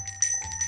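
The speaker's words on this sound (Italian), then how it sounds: "Vai là e suona la campanella." A bright bell chimes a few times in quick succession, ringing clearly over a low steady hum.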